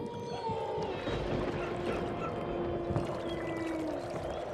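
At night, soft, steady sloshing and lapping of water against a small boat as a boatman rows slowly, with faint oar strokes and a low hum in the background.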